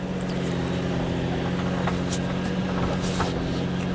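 A Mercedes E350 with almost 200,000 miles idles with a steady, low engine hum. The rumble stays constant throughout, broken only by a few faint clicks and ticks.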